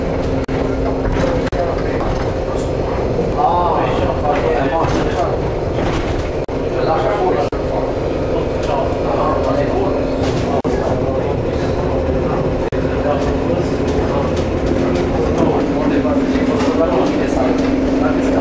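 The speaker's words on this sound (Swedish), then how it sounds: "Vi ska också åka ner den här spårvagnen." A tram rumbles steadily along its rails in Sibiu, Romania, with continuous low mechanical noise and faint clatter, while voices talk over it throughout.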